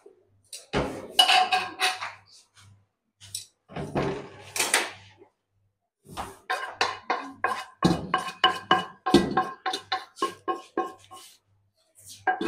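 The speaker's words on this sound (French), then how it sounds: "Et puis on verse ici pour récupérer nos pâtes." Cooked pasta for a Senegalese spaghetti dish poured out to drain, with pots and utensils clattering in bursts of metallic knocks and scrapes separated by brief quiet gaps, close by.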